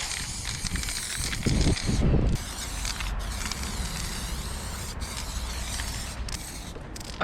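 A spray paint can hisses graffiti onto a wall outdoors in wind, with long continuous sprays broken by short pauses, close and fairly quiet, with gusts of wind rumbling underneath.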